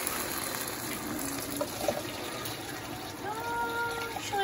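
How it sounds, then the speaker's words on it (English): Tap water pouring steadily into a soup stock pot with softened vegetables for matzo ball soup, a continuous gushing fill with a faint rising tone as the pot fills. "I'm gonna add 2 quarts of water"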